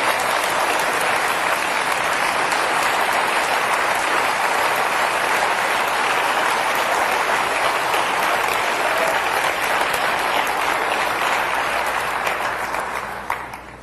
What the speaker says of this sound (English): Why don't you give them a clap while they come up?